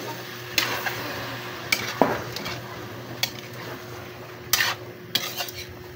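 Chicken cubes stirred in a cooking pot, with a spoon scraping and clinking against the metal in sporadic sharp knocks over a low, steady sizzle.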